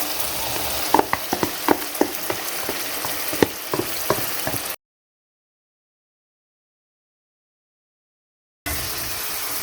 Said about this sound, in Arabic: البصله دبلت يا حبايبي زي ما احنا شايفين. هنبدا نحط كميه الصلصه بتاعتنا عليها.